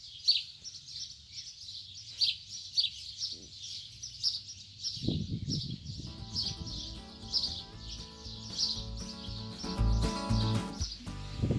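Small birds singing and chirping in a village garden, a steady stream of high, bright calls throughout, joined midway by low rumbling background noise and clatter from the surroundings.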